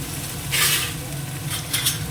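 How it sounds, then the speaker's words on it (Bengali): Close sizzling from a pan of frying poppy seeds with a few louder bursts of stirring scrapes, steady throughout, no voices. "একদম পুরো পোস্তটা সুন্দর করে ভেজে নিচ্ছি"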